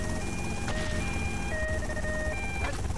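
An ambulance siren in GTA Vice City wails steadily over a constant hum and rumble of game noise, with no voices.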